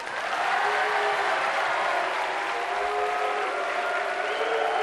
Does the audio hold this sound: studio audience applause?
yes